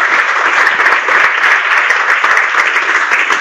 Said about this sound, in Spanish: Le damos nuevamente un aplauso.